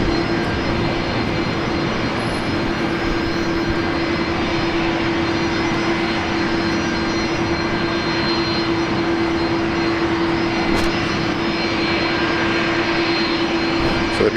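Airbus heavy jet engines at Brisbane Airport make a steady, loud, unbroken roar with a sustained whine running through it for the whole stretch, with no voices.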